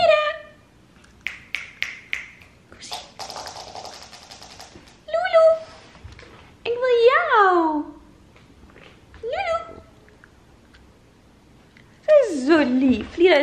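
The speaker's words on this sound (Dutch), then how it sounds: "Oh, en deze katten willen een beetje aandacht." Several cat meows, some short and some drawn out, scattered between pauses, close by, with a few faint clicks and taps in between.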